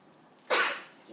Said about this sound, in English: excuse me, I had to sneeze